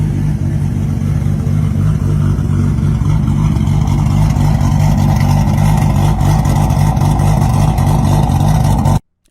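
A tuned car with a built JZ engine idles loud and close with a lumpy, choppy rumble that holds steady before cutting off abruptly, with no voices.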